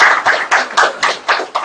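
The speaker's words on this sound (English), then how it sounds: "Big round of applause." Small group applause after thanks at a business analytics and government data governance seminar, heard as a short run of distinct, rhythmic claps roughly four per second, fairly close and moderately loud, with no talking over it.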